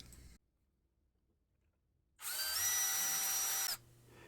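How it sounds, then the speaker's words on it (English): A power drill whirs loudly for about a second and a half drilling into a wooden end table, speeding up then holding steady, after a long quiet pause. "When drilling and screwing in multiple screws"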